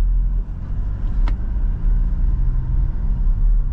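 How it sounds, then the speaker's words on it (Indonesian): A Toyota Innova Reborn rolls over rough, coarse asphalt at night, giving a steady close low rumble of road and engine noise with one brief higher rattle partway through. "ini jalan depan sini sangat jelek sekali, alias aspalnya itu kasar"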